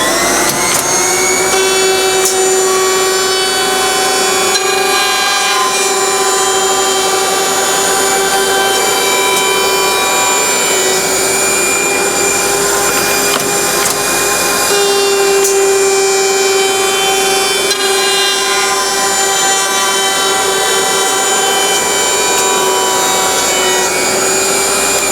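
A compact HA200 pre-glued edge banding machine hums loudly and steadily while finishing panel edges, with a constant motor whine and sustained tonal drone throughout and no talk.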